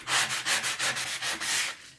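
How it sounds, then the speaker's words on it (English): A wooden sign with painted areas is sanded by hand in a close, even rhythm of about eight scratchy back-and-forth strokes, each a short rasp, with no voices. "So I will need to do some sanding here."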